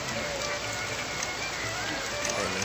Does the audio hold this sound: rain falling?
yes